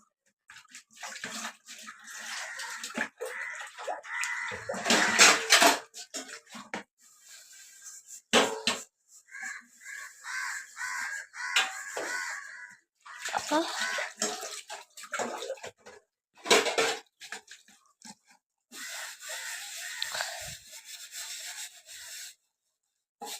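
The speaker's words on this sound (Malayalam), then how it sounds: "അങ്ങനെ പാത്രം എല്ലാം കഴുകി വെച്ചിട്ടുണ്ട്." Dishes and pots being washed by hand give intermittent bursts of running and splashing water mixed with scrubbing and rubbing, separated by short quiet gaps, heard close by.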